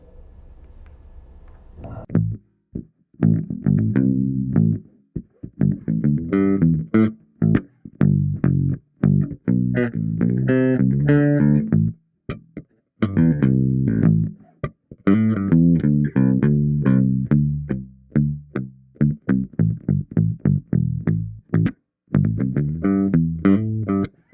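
Castedosa Conchers bass guitar in aged ice blue metallic, played on the bridge pickup with tone wide open, giving clean plucked notes in a steady riff, some sustained and some short and choppy.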